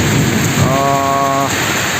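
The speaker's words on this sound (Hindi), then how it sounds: "काफ़ी दिनों बाद बारिश हो रहा है दीपू में" Steady rain falling in Diphu after a long dry spell, a dense continuous hiss close by with a brief tonal whine partway through, no voices.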